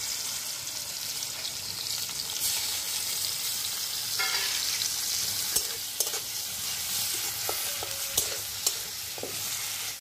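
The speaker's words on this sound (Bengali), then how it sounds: "তো প্রথমে চিংড়ি মাছটা ভেজে নেব।" Prawns sizzle steadily in a hot wok over a stove, a continuous close frying hiss with small pops and crackles and occasional sharper spatters, no voices.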